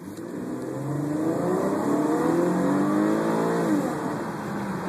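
A 2012 Camaro ILT V6 in automatic drive accelerates steadily, its engine note rising and holding at a loud, continuous mid-pitched growl before easing slightly near the end.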